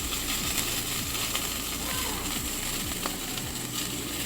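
An egg fries in a hole cut in a slice of bread in a pan, giving a continuous crackling sizzle with a repeated low ticking sweep underneath.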